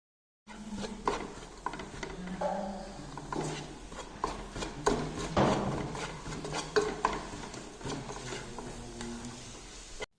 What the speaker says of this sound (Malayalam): കുറച്ച് മഞ്ഞൾപ്പൊടി കുറച്ച് മുളക് പൊടി എന്നിവ കൂടി ചേർത്തൊന്ന് ഇളക്കിയെടുക്കാം